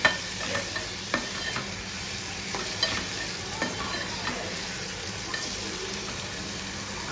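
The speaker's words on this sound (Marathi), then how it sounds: "ब्राऊन होईपर्यंत आपण मिक्स करत राहूया कांदा" Onions are fried on low flame for a prawn gravy, with a quiet continuous sizzle and a series of light spatula scrapes and clinks recurring roughly every second.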